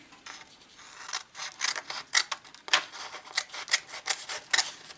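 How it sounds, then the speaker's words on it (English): Scissors snipping through paper to cut out a baseball cap sewing pattern, close up: a rapid series of crisp, rhythmic cuts with short rustling pauses between them. "I am going to cut this out a tiny bit bigger than what we made here."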